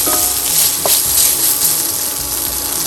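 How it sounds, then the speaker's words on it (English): Ginger paste frying in a pan gives a steady, close sizzle with a faint stir or scrape partway through, and no voices. "Then some ginger paste. Fry it well."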